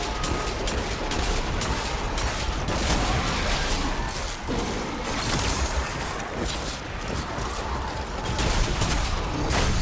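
Hand cannon fire during combat against a champion in the video game Destiny 2, a dense, continuous barrage of loud shots and impacts with no pauses.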